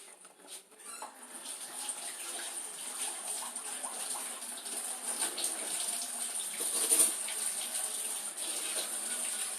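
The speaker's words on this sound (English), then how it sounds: "I'm going to go over here and I'm going to get a spoon so I can taste this, and I'm going to wash my hands." Hands are washed under a running kitchen tap, the water hissing and splashing steadily at moderate volume for nearly ten seconds, with small patters and shifts as the hands move through the stream.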